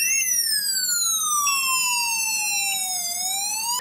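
Siren from an Anni all-in-one security camera system with DVR, set off by its gas detection sensing regular smoke: a loud, continuous electronic wail sweeping slowly down in pitch then back up, heard alone without talk.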